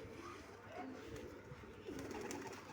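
Pet pigeons coo softly in a few low, rolling phrases, faint and a little distant, over a quiet background hum.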